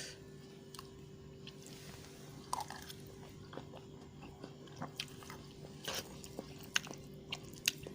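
Someone eats homemade curry-flavoured instant noodles, with soft, close biting and chewing sounds that come in irregular bursts over a faint steady background hum.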